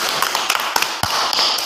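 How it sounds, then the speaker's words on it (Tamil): A group of students in a classroom claps hands together, a dense, continuous patter of many claps, fairly loud and steady throughout with no talking over it. "எல்லாம் ஒரு கை தட்டுங்க"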